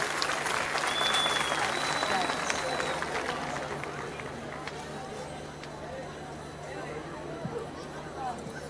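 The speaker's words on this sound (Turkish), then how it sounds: "Evet, güçlü bir alkış istiyorum" Large audience applauding at an outdoor public gathering in Bergama honouring the mayor: dense, sustained clapping and crowd noise, strongest at first and then settling to a steady wash, with a faint tone and background chatter.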